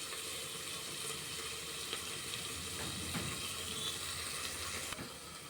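Onions sizzle steadily in a hot pan for masala broad beans, a continuous dense frying hiss with faint stirring scrapes and a soft clack near the end, close and alone with no talking.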